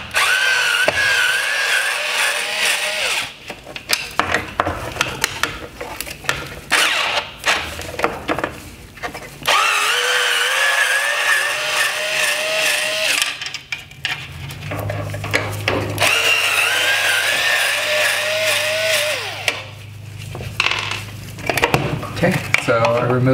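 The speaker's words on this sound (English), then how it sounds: "Remove those three T20 screws" A power driver backs T20 screws out of a Tesla Model 3 headlight housing with repeated close whirring runs of rising and falling pitch, separated by short pauses, while a voice talks at times.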